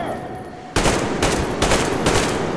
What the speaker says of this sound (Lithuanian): Šaudimas žiauriai pagerėjo